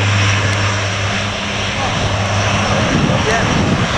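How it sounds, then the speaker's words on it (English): Osprey tiltrotor aircraft flying near RAF Mildenhall, a steady loud droning engine and rotor hum with low throbbing tones, heard outdoors with people talking nearby. "now we've got an Osprey strobing."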